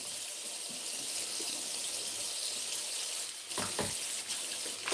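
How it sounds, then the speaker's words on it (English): Tap water runs steadily into a sink as vegetables such as broccoli and spinach are washed and scrubbed with a scrubbing brush, a constant close hiss broken by a few brief scrubbing and splashing bursts near the end. "I wash it off, scrub it off."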